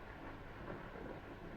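Steady rain with a low thunderstorm rumble, a dense continuous wash of noise filling the short stretch at an even level with no voices.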